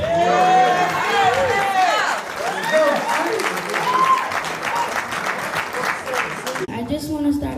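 Loud crowd applause for a young performer at an entertainment event, steady clapping mixed with cheering voices and chatter, then cutting away to quieter room sound at the end.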